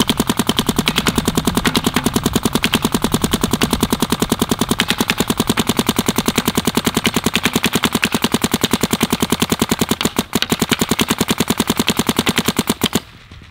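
A Planet Eclipse Geo R5 paintball marker fires a long, rapid, evenly spaced string of close, loud shots without pause, with a brief stutter near the end before it stops.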